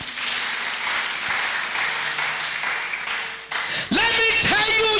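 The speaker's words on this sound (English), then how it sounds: "Clap for Jesus" A church congregation clapping for Jesus during a sermon, a steady patter of many hands for several seconds that fades, then a loud voice cuts in near the end.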